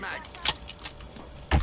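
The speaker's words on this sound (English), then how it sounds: "Changing mags." Weapon magazine change in Call of Duty: Modern Warfare multiplayer, a few short metallic clicks and clacks followed by a louder mechanical clunk at the end, close and brief.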